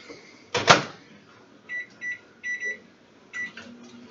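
A microwave door clunks shut, followed by a series of short electronic beeps in pairs as buttons are pressed, close and clear.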